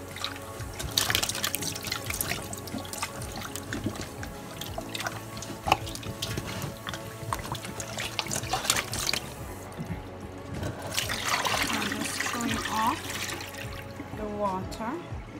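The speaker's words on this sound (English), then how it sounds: "You fill that pan of water and you wash it off." Ham being washed off in a pan of water on a stove, with splashing, dripping and sloshing in bursts, fairly quiet and close, with a pause midway.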